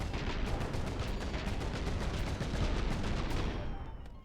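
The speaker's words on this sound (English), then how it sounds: "You might want to get your chain gun to stop firing." A chain gun fires in the Cosmoteer space-combat game: a loud, dense, unbroken stream of rapid shots that keeps hammering for several seconds before easing slightly at the end.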